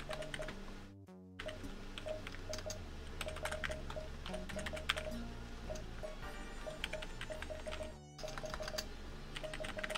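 Rapid computer keyboard typing while playing The Textorcist, an indie PC game, with dense irregular clicks running throughout over steady game music, briefly cutting out twice.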